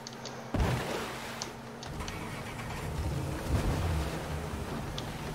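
Motorboat engine in a video game, a steady low rumble with water wash, moderately loud and continuous, with a sharper surge about half a second in and again near three and a half seconds.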